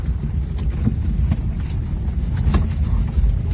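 A Zaporozhets car drives nearby with a rough, steady low engine rumble and wind buffeting throughout, with a few clunks over it.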